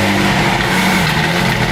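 McLaren hypercar engine starting at a car dealership, a loud, dense, continuous engine roar close up, steady and unbroken throughout.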